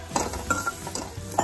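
Spoon scraping and stirring besan gram flour with okra in a hot pan, a few soft scrapes with faint sizzling, close and brief.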